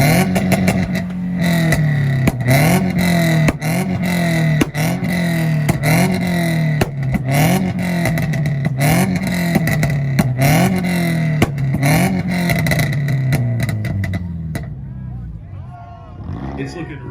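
A Scion car revs hard in a two-step rev battle at a North Carolina car meet, its engine bouncing off the limiter in rapid repeated pops and bangs for about fourteen seconds before dropping to a lower idle, with a voice heard over the noise.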